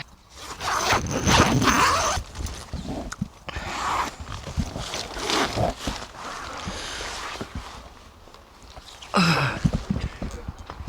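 A close tent door zipper opening in several long, rasping pulls, with fabric rustling and shuffling between them and a final quick zip near the end.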